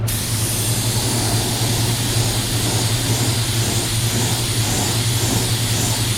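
A spray gun lightly dusts water-based paint onto a two-tone panel, making a steady, close, continuous broadband hiss with no pauses and no talking.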